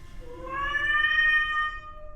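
A single drawn-out meow from a large black cat, rising and falling, close and fairly clear, with no voices.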